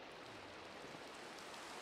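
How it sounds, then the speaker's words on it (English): Rain falls in Minecraft as a faint, steady, even wash of noise with no talking over it. "And it's raining."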